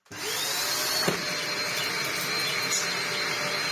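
A Dyson DC03 vacuum cleaner drones steadily and close, with a rattling vibration from the base plate buzzing underneath and a brief knock about a second in.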